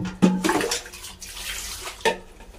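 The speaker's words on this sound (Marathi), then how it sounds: "चला मग मी लवकर धुवून काढते कपडे" Water sloshing and splashing as a bucket of clothes is washed by hand, with close, uneven bursts of wet rubbing and pouring.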